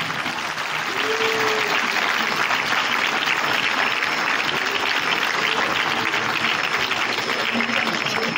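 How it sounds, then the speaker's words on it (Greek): Audience applause after a school theatre performance at an education festival, a steady dense clapping that starts almost at once and holds evenly loud for the full length, with faint voices scattered underneath. "Ένα ζεστό χειροκρότημα για όλα τα παιδιά."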